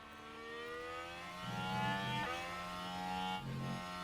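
Simulated Formula 1 cars in F1 Manager 2023 roar past in an overtake, a dense sustained engine whine with layered harmonic tones swelling and shifting pitch, steady and fairly loud throughout.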